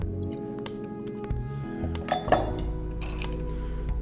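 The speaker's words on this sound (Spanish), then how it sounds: "Un poco más de hielo." Ice cubes clink into a glass while a Pisco Punch cocktail with pineapple syrup and lime juice is built, giving several close, bright knocks and rattles with a sharp cluster midway over a steady low background.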